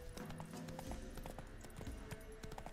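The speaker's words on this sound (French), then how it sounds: "Ah, mon cheval est fatigué." Horse hooves clip-clopping at a gallop in The Witcher 3, a steady rapid rhythm of thuds running throughout, fairly close, over a dense background of game ambience and music.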